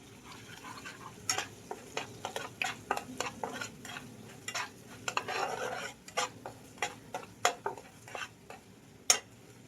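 Dried red chilli fried lightly in a pan, heard as a faint sizzle under repeated sharp clinks and scrapes of a utensil stirring against the pan.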